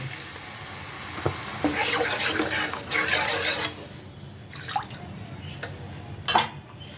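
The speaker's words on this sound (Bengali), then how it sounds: "এখন এর মধ্যে আমি দেব দুটো কাঁচা লঙ্কা দিয়ে দিই আর দেবো জল সামান্য" A little water and green chillies go into cooked-down spice masala in hot oil, bringing bursts of loud sizzling and splashing that fade to softer bubbling, with a sharp clatter near the end.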